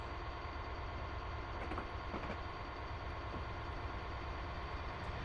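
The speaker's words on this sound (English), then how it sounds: "There's another train going by." A Class 66 diesel locomotive passes on the Settle to Carlisle line, heard as a steady, broad rumble and rail roar that holds evenly throughout, with a few faint squeals and clanks riding on top and no talking.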